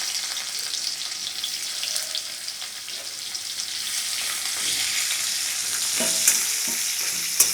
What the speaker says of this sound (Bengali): আর এবার এর ভিতরে দিয়ে দেবো একটু পেঁয়াজ কুচি।